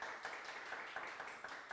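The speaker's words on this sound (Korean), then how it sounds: "박수하겠습니다." Scattered applause from a church congregation during a Sunday worship service, a soft, steady patter of clapping heard faintly from a distance.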